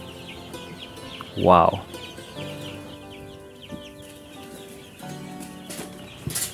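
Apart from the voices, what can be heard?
local chickens clucking and flapping wings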